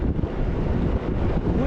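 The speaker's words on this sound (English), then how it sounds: "Definitely feel the wind against me on the way back." Wind roars steadily across the microphone while a rider pedals a gravel bike on the Ridgeway, a loud continuous rush with brief gusting dips and no clear voice.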